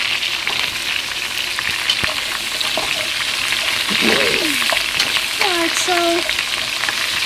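Tamale filling for Panamanian tamales sizzles and fries steadily in a pan, a loud constant crackle with a few stirring scrapes, while someone says a couple of words partway through.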